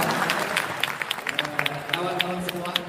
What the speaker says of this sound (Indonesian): Terima kasih semuanya, tepuk tangan.